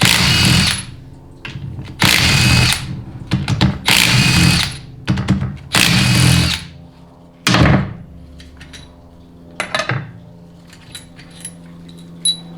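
A loud, close power tool drives transmission bolts on a Ford 6R140 in several short whirring bursts separated by brief pauses, with some metallic clanks between runs.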